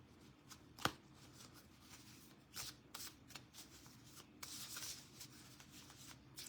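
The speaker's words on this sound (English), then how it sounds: "I'm going to pull 2 shaman cards." Oracle cards being shuffled in the hands at close range, a steady run of soft riffling and sliding card sounds with one sharper snap near the start and no talking.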